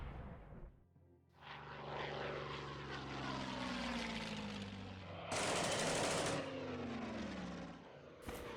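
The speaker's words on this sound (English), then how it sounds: "the planes are trying to wreak havoc here" Warplanes in a WWII hex-based wargame video game drone past with propeller engine roars that swell and fade, punctuated by bursts of machine-gun fire, loud and with no talk over them.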